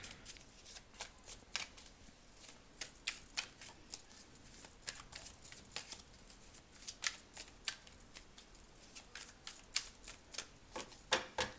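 Tarot cards are shuffled by hand up close, a continuous run of crisp riffling slaps and flicks with irregular bursts, heard alone with no talking.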